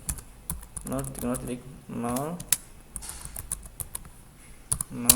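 Typing a command on a computer keyboard while configuring a Cisco router route, quick clusters of crisp key clicks, close and clear, with someone speaking over the first half.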